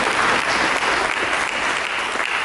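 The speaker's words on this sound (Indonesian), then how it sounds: "Mari kita berikan tepuk tangan." Sustained, dense applause fills a church sermon hall as the congregation claps steadily and loudly for the full stretch, with no voices over it.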